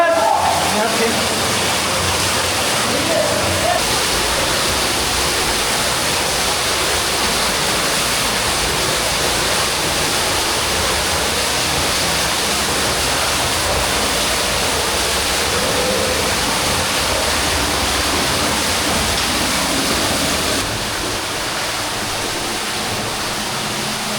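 An underground cave waterfall roars as steady, dense, broadband rushing water, loud and unbroken for the whole stretch, easing slightly near the end.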